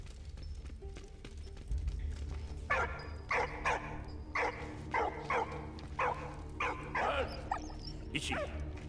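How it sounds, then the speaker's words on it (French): A small dog barks and yips in a rapid, fairly distant series of sharp calls over a low rumbling background. "cours mon petit chien"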